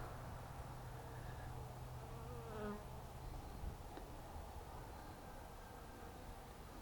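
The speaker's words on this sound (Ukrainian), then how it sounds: "Ось цього вулика вже бджілки почали вилітати на двір." Steady, dense buzzing of many honeybees flying out of a hive close by, a continuous hum with no talking.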